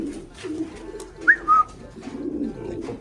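A young racing pigeon coos in soft, low, repeated pulses, close and fairly quiet, with a couple of brief high chirps from another bird breaking in midway.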